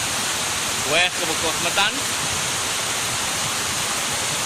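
The Hollat waterfall roars as a loud, steady broadband rush of falling water into a natural bathing pool. Someone speaks briefly over the roar.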